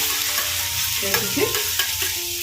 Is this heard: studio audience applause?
no